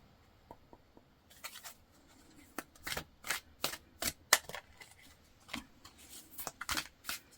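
Tarot cards shuffled by hand at close range, a quiet start with a few soft taps, then a run of crisp riffling bursts and flicks in an irregular rhythm, no voices.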